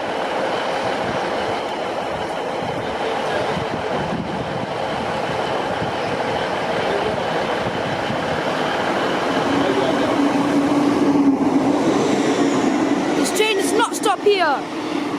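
The Flying Scotsman steam locomotive rumbles through Peterborough station without stopping, a steady roar and rising clatter, and a sharp whistle-like squeal near the end.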